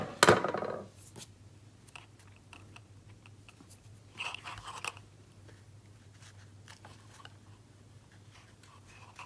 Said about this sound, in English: Trim the edge of this bit.